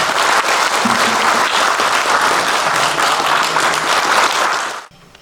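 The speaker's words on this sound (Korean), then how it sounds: "박수 한번 보내주시기 바랍니다" Audience applause at a National Assembly debate on a special compensation act for Vietnam War veterans: steady, dense clapping fills the hall for about five seconds, then stops abruptly.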